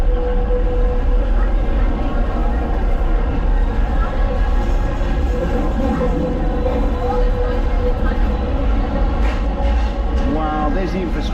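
Steady rumble of a theme-park ride locomotive rolling along, a loud continuous low drone with faint clickety-clack, joined by a talking voice over the ride noise.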